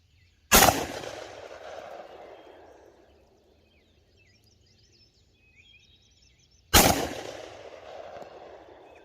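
Two loud, sharp pistol shots fired with bear loads, several seconds apart, each a sudden blast followed by a long decaying echo outdoors, with faint birds in the quiet between.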